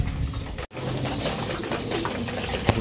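Pigeons in a loft, several young birds feeding together, give soft low cooing and bird calls over steady background noise, close by, with a brief dropout partway through and a sharp knock near the end.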